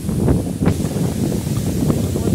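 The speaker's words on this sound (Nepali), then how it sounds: "ल चिसो हावा त बबाल रहेछ है" Strong cold wind outdoors at Sunchahari in Nepal, a loud steady rush and buffeting across the microphone throughout, with no talking.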